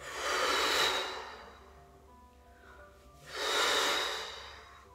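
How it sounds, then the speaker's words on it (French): Two deep breaths drawn in during a singing warm-up, slow broad airy swells with a quiet gap between them, close and alone. "je vais prendre une inspiration et je balaye"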